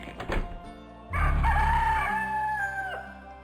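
A rooster crows in a cozy video game: a short clucking burst, then one loud, sustained cock-a-doodle-doo that holds steady and drops off at the end, close and clear with no speech.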